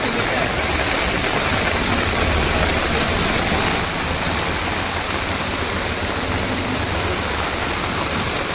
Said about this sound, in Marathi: आता पाऊस भरपूर पडतोय